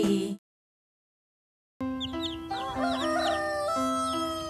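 Cartoon chickens cluck and a rooster crows in a bright, layered farmyard chorus after a brief silent gap, with repeated rising calls sounding close and clear.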